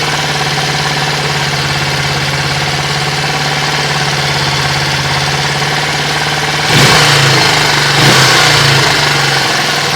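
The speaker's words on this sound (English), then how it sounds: "Listen how smooth that engine sounds." Steady low idle from a 2023 Venom SS3 KP mini 150 motorcycle engine on its first start, running smoothly nearby, then two short throttle blips near the end briefly lift the sound.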